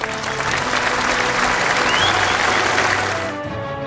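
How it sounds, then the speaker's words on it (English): A dense round of crowd applause and clapping, loud and continuous for several seconds before cutting off abruptly near the end. "Cue the round of applause."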